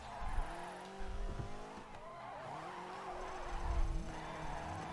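A yellow Subaru rally car races in the Dirt 3 video game, its engine revving and shifting loudly with tire squeal and skidding over gravel, close and continuous with no talk.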